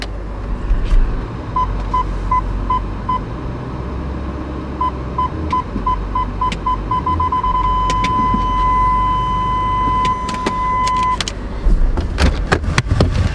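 A Range Rover 3.6 TDV8 idles with a low, steady diesel rumble, while a run of repeated electronic chime beeps turns into one long held tone, with sharp clicks near the end.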